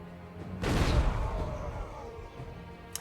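A cannon fires in the revolutionary-era strategy game We. The Revolution, one heavy booming blast that rolls off into a fading rumble, with a faint click at the end.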